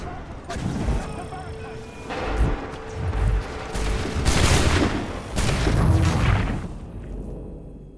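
Musket volley fire in Assassin's Creed 3, booming shots landing in bursts over several seconds amid battlefield noise, loud and close.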